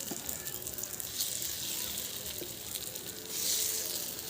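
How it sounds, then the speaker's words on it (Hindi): Oil poured into a hot kadhai hisses into a steady, dense sizzle that holds close and loud for the whole few seconds, with faint crackles on top. "तो कढ़ाई हमारी गर्म हो चुकी थी, तो हम दोस्तों उसमें थोड़ी सी हमने बस तेल डाली।"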